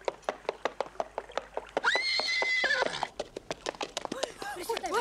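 Rapid hoofbeats clatter in a steady rhythm as a horse lets out a loud, shrill whinny partway through, close by and clear.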